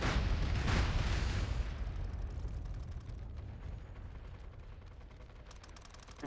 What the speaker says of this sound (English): Shells incoming.